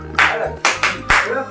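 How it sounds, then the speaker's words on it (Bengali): One person claps hands alone, four sharp, close, loud claps at uneven intervals in a quiet room, with no talking. "আমি দিচ্ছি নিজে নিজে হাততালি।"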